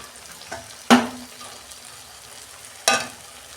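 Spice masala paste fried down in oil for a fish curry, a soft steady sizzle broken by two sharp spatula scrapes against the pan, close and clear without talk.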